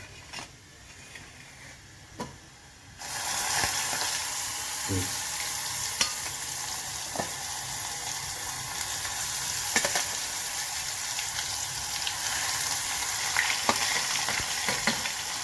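Okra hitting hot oil seasoned with asafoetida for stuffed bhindi curry, a steady loud sizzle of frying that begins abruptly after a few seconds of quieter kitchen noise, with scattered clicks and light utensil taps on top.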